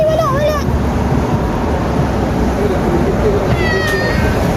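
A ginger street cat meows twice, a wavering cry at the start and another a few seconds later, heard close over steady wind and street noise outdoors.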